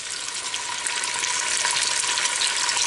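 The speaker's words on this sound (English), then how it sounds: "you need to hear that sizzle, so you know that your oil is hot and ready" Chicken pieces sizzling in hot oil in a thick-bottomed Dutch oven: a loud, continuous, crackling hiss that builds slightly and holds steady, heard close up with no talking.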